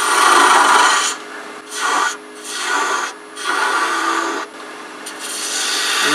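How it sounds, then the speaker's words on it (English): Spindle gouge cutting dogwood spinning on a lathe while the blank is trued round, a loud hissing, rasping scrape in several strokes of a second or two with short pauses between, near and continuous. "We're going to go ahead and true it up, make sure it's round."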